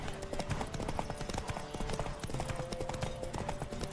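Rapid, continuous hoofbeats of a horse galloping in The Witcher 3: Wild Hunt, a dense drumming rhythm that stays loud and close for the whole stretch with no talking over it.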